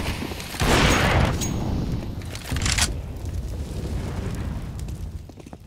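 An incendiary grenade bursts into fire in a CS:GO match, a loud whooshing roar of flames that flares up, dips, then swells again before settling into a sustained crackling burn.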